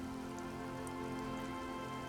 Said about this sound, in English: through heavy, dark gray curtains of rain